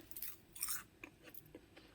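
Crunching bites of crispy homemade kale crisps, chewed close to the mic in a quiet room, with short brittle bursts repeating irregularly over about two seconds.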